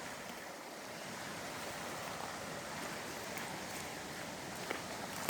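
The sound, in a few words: water flowing by a forest stream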